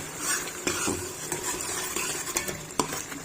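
Chana dal and turai stir-fried with roasted garam masala over a high flame: brisk spoon scraping and clinks against the pan over a constant close sizzle, no voices.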